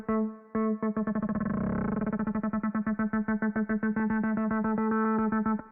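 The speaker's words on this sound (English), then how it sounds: "There's an automation for the rate of the LFO in Serum" A Serum synth patch pulses in rapid rhythmic chops as its LFO rate is automated, the repeating stabs speeding up and tightening into a fast stutter while a sustained buzzy tone holds underneath.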